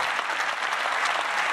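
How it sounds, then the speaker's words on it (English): Audience at the Apple iPad mini announcement event breaking into sustained applause, a dense wash of many hands clapping steadily throughout the short burst. "Why are you clapping at that?"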